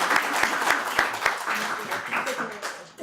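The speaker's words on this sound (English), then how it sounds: "Can we have another round of applause?" A small forum audience gives a round of applause: a few crisp, separate claps up front, then a looser patter of hands that thins out while people talk nearby.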